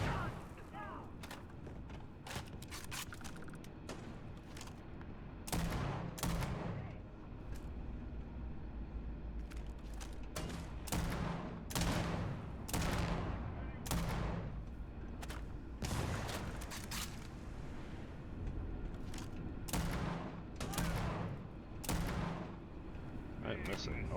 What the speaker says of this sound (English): I'm missing all my shots here.